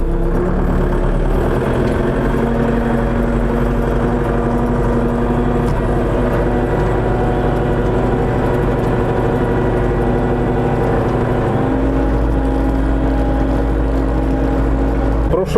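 Tractor engine running steadily while ploughing a field, a loud, close, constant low drone with a slight shift in tone near the end and no pauses.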